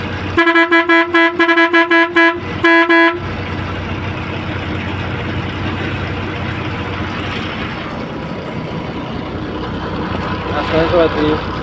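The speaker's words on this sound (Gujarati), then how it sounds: "એકદમ કજવીને હોર્ન કરી" A bus horn honks in a rapid series of loud, close toots over the first three seconds, followed by the steady rumble of the idling bus and road noise.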